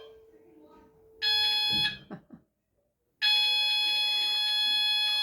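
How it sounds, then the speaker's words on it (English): A school lesson change bell rings twice, a loud electric ringing tone about a second long, then a short gap and a second longer burst that continues to the end. "that's just the lesson change bell"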